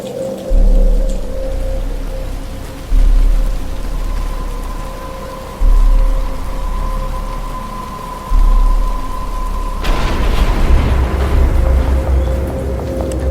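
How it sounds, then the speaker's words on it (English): Steady rain falling in the video game Batman Arkham Asylum, a dense continuous hiss with low thumps and a sudden louder surge of downpour toward the end. "But it's starting to rain."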